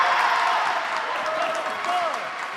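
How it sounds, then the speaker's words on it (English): A crowd applauding and cheering after a good point at a pickleball tournament in South Korea, a steady wash of clapping and crowd noise, with a commentator talking over it. "people cheer for every good point"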